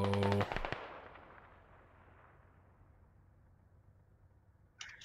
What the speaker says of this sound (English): Shots being traded.